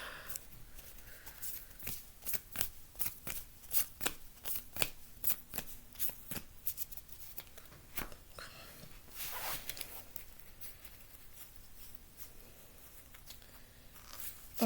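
Trading cards for the One Piece card game, Red Luffy versus Green Zoro decks, are drawn and handled on a table, giving quick irregular flicks and soft slaps close by with faint murmuring underneath.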